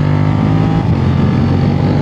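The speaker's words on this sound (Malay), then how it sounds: "Tu bunyi V-twin guys." A Suzuki SV650 V-twin motorcycle engine throbs loudly and steadily while riding, a dense low rumble with wind noise over it, close and continuous with no talking.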